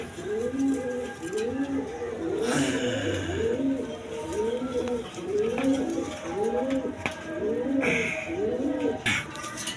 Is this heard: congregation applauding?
no